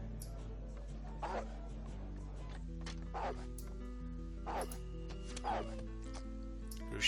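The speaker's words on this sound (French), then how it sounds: "Le chien, pourquoi tu m'attaques?" A dog in the video game Divine Divinity barks and lunges in repeated short yaps about once a second, over a soft musical background of sustained tones.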